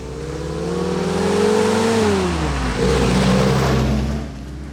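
A WW2 Jeep engine buzzes along loudly and close while driving, its pitch climbing steadily, then dipping as it shifts before rising again, a constant raspy drone with no talk.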